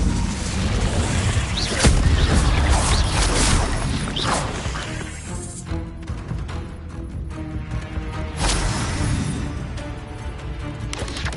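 A fire spell being cast in the Hogwarts Legacy video game, heard as loud whooshing bursts with crashing impacts. Several surges rise and fall across a busy, dense mix, with no talk in the moment.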